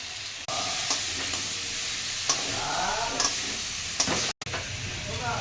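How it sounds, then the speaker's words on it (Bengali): Pumpkin pieces for a vegetarian curry fry in a pan with a steady, close sizzle, broken by a few scraping stirs and one brief drop-out. "এগুলো একটু ভেজে নিলাম"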